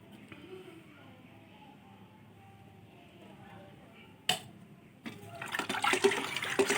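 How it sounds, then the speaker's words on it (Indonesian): Pesticide mixture for thrips on chilli plants stirred with water in a bucket, sloshing and swirling that starts after a sharp knock and grows louder and busier, close up. "Ini kita aduk dulu dalam ember"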